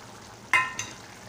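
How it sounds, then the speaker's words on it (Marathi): Ghee-roasted semolina tipped into a pan for Konkan-style upma gives a short sizzling rush, two brief bursts close together, loud against a quiet background. "आता मी तुपात भाजलेला रवा घालत आहे"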